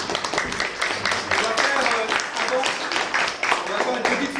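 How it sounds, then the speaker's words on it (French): Audience applause fills a youth municipal council plenary assembly, steady broadband clapping from a roomful of people over the whole stretch, with some voices mixed in. "On vous applaudit."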